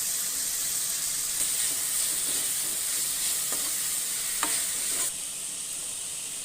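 Onions sizzle and hiss steadily in hot oil in a pan, the start of a potato kurma, with occasional faint stirring scrapes and no talk.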